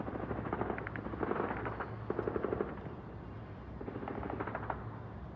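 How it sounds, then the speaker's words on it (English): Rapid bursts of rifle fire from a moderate firefight between IDF forces and Hezbollah fighters near the Israel–Lebanon border, crackling in quick clusters over a steady low rumble, at a distance and fairly faint. "hear the sounds of the rifle fire."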